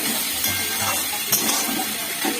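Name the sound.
stirring snake gourd curry in a pan after removing lid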